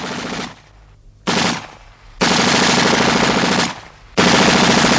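Machine gun fire from an archival war documentary: loud sustained bursts of rapid automatic shots, broken by brief pauses, each burst lasting one to two seconds.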